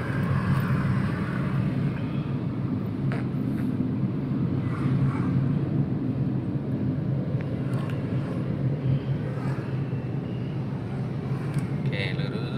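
An automatic car pulls along a city road during a beginner's driving lesson, giving a steady, close interior engine and road rumble that holds even throughout, with a voice speaking over it.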